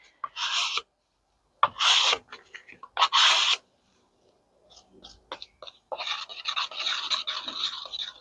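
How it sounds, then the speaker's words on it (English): Eco resin scraped off a surface with small brown streaks and chunks, giving close, dry rasping strokes in short bursts, then a longer run of steady scraping. "I'm going to scrape this again, just because I see some streaks of that brown."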